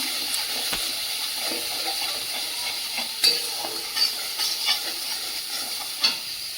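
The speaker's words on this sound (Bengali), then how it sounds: "হলুদ গুঁড়ো দিয়ে ভালো করে কষিয়ে নেব" Spices cooking down with turmeric and chili powder in a new wok give a soft, steady sizzle and hiss, punctuated by occasional spoon taps and scrapes against the pan.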